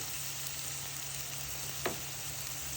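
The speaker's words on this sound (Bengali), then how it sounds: "পেঁয়াজ আমি হালকা ভেজে নিলাম।" Sliced onions frying lightly in a pan of hot oil: a steady, close sizzle runs throughout, broken once by a brief utensil scrape.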